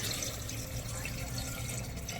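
Water poured into a cooking pot for a Gujarati brinjal curry, a steady continuous splashing and running stream, fairly close and even throughout, with no talk.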